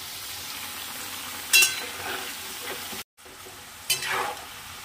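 Potato slices for aloo bhaja fry in a pan with a steady, soft sizzle, broken by a few brief louder crackles and a short dropout.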